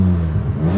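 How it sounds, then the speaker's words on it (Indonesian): A Mitsubishi Galant engine revs up close through a modified exhaust, a loud throaty rumble with rough exhaust sputter that rises and holds steady. "Ini suaranya begini guys. Jadi kalau mau, ini sedikit gua gerung dulu nih."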